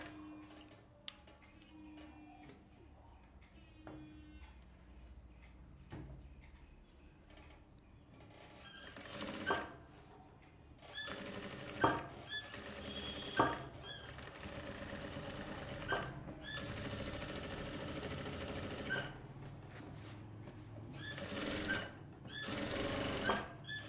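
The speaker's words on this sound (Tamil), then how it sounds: "கரெக்டாக அந்த கழுத்தில் தையல் போட்டு அடித்து திருப்பிக்கோங்க" Sewing machine stitching the neckline of a silk dress for a one-year-old, heard in several loud bursts of rapid mechanical whirring separated by quieter pauses.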